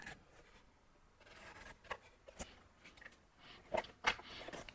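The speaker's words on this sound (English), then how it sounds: "Then I'll use a marker to show the cut line." Marker tip scratching along a template to draw a cut line for a guitar build, a few short faint scribbling strokes in a quiet room, with small rubbing bursts near the end.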